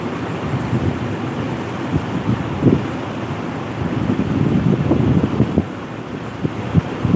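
Wind blows hard outdoors, buffeting the microphone with a loud, continuous low rumble that swells and eases in gusts, with no voices.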